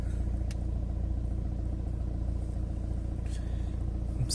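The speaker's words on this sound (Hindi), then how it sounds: "जो भी आप आवाज सुन रहे हैं इंजन की, ये बिल्कुल कोल्ड स्टार्ट पे आवाज है" A car engine idling just after a cold start with Motul 8100 X-cess 5w40 oil, a steady low rumble held evenly throughout, with faint clicks on top and no talking.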